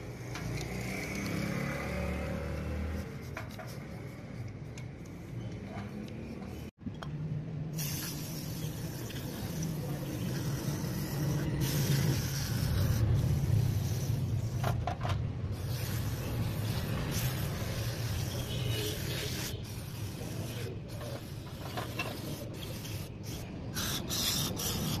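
Cleaner sprayed onto a car's electric throttle body, faint hissing spray bursts and rubbing noises over a low background hum, no talk.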